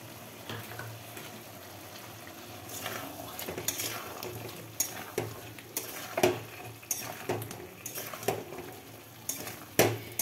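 Potato dum with spices, turmeric, salt and sugar being sautéed in a pan, with a low steady frying hiss under repeated scrapes and clinks of a spoon stirring against the pan, growing busier toward the end.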